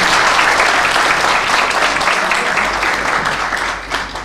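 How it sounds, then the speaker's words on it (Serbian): A crowd at a public meeting with a government minister in Smederevska Palanka claps in dense, loud applause that holds steady for several seconds, then begins to thin and fade slightly toward the end. "Molim vas jedan veliki aplauz."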